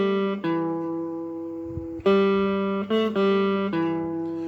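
A guitar plays the opening phrase of the carol Silent Night, a four-note phrase repeated twice on the third string: sustained clear notes ringing one after another, close and alone with no talking.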